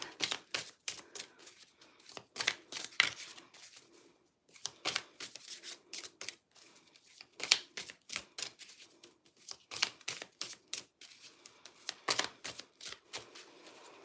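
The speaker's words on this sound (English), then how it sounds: "Let's give them a shuffle." A deck of tarot cards is shuffled up close in a steady series of crisp, clicking riffles and slaps, broken by brief pauses, with no talking.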